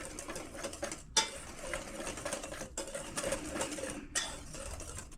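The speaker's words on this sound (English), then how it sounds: "Whisk that together." Italian seasoning, paprika and garlic powder being whisked together in a bowl, a rapid rattling clatter that keeps up with a few brief pauses, close by and fairly quiet.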